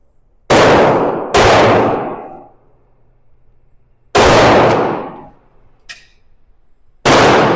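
A SIG P365 pistol fires four loud, sharp shots outdoors, spaced irregularly with ringing decay after each, plus a faint click between them.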